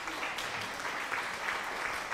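Applause sound effect played on a live stream, a steady wash of clapping from a crowd lasting a couple of seconds at even loudness.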